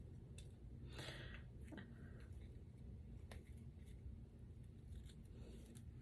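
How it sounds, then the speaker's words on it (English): Scissors trim shaggy edges of wavy square scrapbook paper, giving a few soft, close snips and paper scrapes over a low steady room hum. "just clean that up with your scissors"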